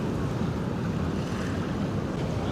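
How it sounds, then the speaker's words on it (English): Waves washing onto a protected beach on Motu Ofetaru, Raiatea, French Polynesia, a steady broad rumble of surf with wind, constant and moderately loud without distinct breaks. "we can hear waves crashing in the distance"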